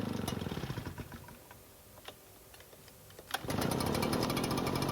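An Echo leaf blower's small two-stroke engine, with its recoil starter, catching on a pull: rapid sputtering at first, a brief lull with faint knocks, then a sharp kick as it bursts into a loud, steady buzzing idle.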